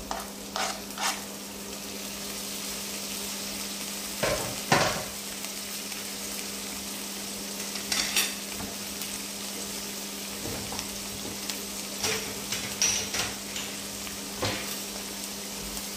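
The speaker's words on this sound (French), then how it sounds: "Et on va également bien cuire nos tomates avec" Thin tomato slices cooking with chicken and onions in a frying pan, a steady close sizzle broken by repeated spatula scrapes and stirring knocks, no talk.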